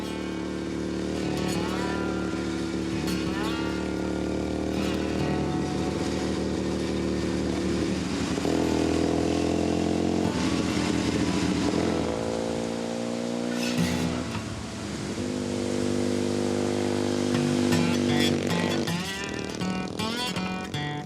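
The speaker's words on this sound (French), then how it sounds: "dès qu'il le peut, Olivier prend la route à moto" A motorcycle engine drones steadily along the road up Mauna Kea, holding a sustained hum with occasional shifts in pitch as it accelerates and eases off, close and loud throughout.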